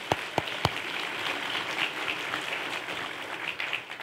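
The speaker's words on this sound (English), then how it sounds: "Can we give them a round of applause?" A church congregation applauds on a Sunday morning, a few sharp near claps opening into a steady, moderately loud spread of clapping from the room.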